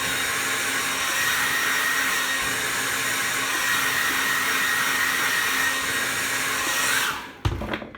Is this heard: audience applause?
no